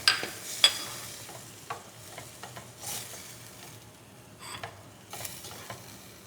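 Finely chopped onion frying with spices in a pan, a soft continuous sizzle broken by scattered scrapes and taps of a spoon stirring, fairly quiet and close.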